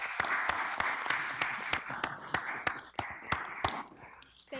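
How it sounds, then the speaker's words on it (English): Audience applause in a city council chamber, a steady patter of clapping with several loud, close individual claps standing out, fading toward the end. "give her an applause"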